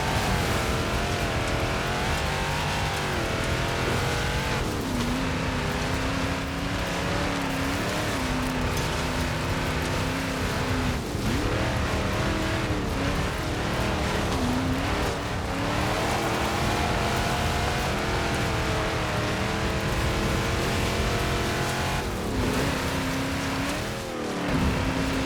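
A 1973 Ford XB Falcon GT in Forza Horizon 4 roars hard under heavy throttle with wheel spin, its engine note climbing and falling through repeated revs across a long, loud run.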